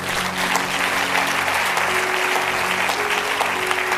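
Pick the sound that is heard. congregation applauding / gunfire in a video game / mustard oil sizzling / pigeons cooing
congregation applauding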